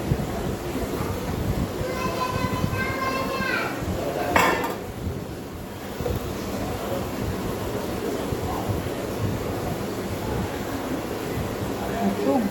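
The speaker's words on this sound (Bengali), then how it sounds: "তো এখন ভাতটা বেড়ে সবাইকে খেতে দিচ্ছি" Rice is served onto plates in a home kitchen, with close dishes and utensils clinking and clattering over a steady background hum, and a brief sharp clank midway.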